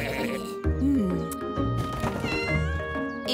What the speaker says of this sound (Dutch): Welk dier miauwt? Precies, een poes.